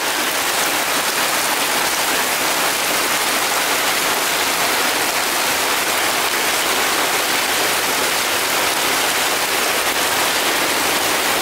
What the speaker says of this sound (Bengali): আজকে বৃষ্টির পাওয়ার মানে চরম পাওয়ারফুল বৃষ্টি এবং টানা অনেকক্ষণ থেকে হচ্ছে